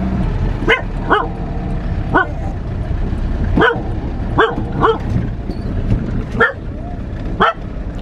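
A dog barks eight or nine times in sharp single and paired yaps spread over eight seconds, close and loud above a steady background hum.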